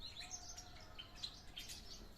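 Ornamental birds in an aviary give faint, scattered high chirps and short tweets over a low background rumble, several calls in quick succession at a distance.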